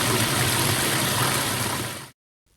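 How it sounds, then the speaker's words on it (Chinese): Small stream babbling beside a forest campsite, a steady close rushing and trickling of water that runs unbroken for about two seconds, then cuts to silence. "我旁边就是一条小溪潺潺"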